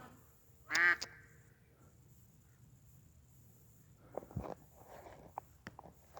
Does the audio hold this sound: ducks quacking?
yes